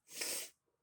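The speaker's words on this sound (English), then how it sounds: "Sorry, I'm about to sneeze." A single sharp, breathy sneeze bursts out close by, brief and hissing, followed by near silence.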